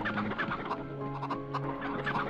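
Chickens in the PS1 video game MediEvil cluck repeatedly in short, bobbing bursts over a low, droning in-game music bed, with several birds overlapping close by.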